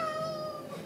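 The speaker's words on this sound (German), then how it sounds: "das ist meine Katze, die möchte raus." A house cat meows insistently, wanting to be let outside, sounding close and fairly loud with a drawn-out tonal cry and no talking.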